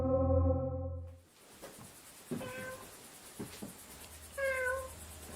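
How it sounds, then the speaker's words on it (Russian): A cat meows insistently at close range during a paranormal investigation, with a few drawn-out, pitch-sliding cries separated by short pauses over a quiet, faintly noisy room. "unos insistentes maullidos de gato pueden escucharse con claridad y muy cerca de Darghost"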